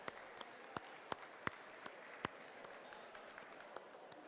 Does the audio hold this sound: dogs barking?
no